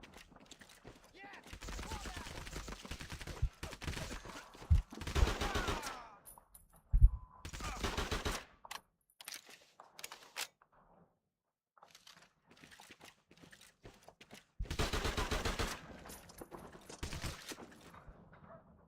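Kar 98 bolt-action rifle gunfire in the World War II shooter Medal of Honor Heroes 2, heard as bursts of sharp shots in clusters separated by near silence, moderately loud with some faint background sound between volleys.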